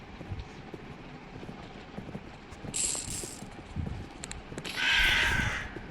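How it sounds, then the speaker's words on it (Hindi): Crows caw in a video game, two harsh calls rising over a steady rumbling, clattering background with hoof-like clopping, moderately loud and without talk. "कौवे उड़ रहे हैं।"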